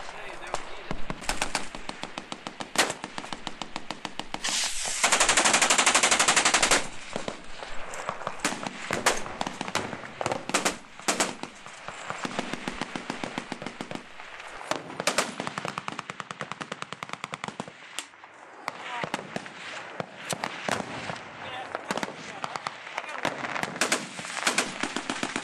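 Machine guns firing at night during a Big Sandy shoot in spring 2010, with rapid bursts of automatic fire crackling continuously, one loud dense burst standing out, and voices occasionally audible in the background.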